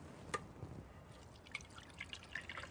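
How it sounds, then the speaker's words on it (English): Wet paper pulp drains through a colander strainer set over a towel, with faint scattered drips and soft trickles under a steady low background hiss. "Now we're ready to pour it into our colander strainer once again."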